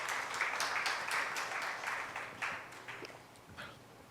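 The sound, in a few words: congregation applauding in church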